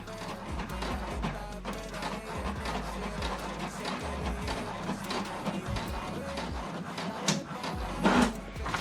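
An HP Deskjet 2800-series inkjet printer prints a page, with mechanical whirring, rhythmic carriage shuttling and clicks as paper feeds, heard close and without talk.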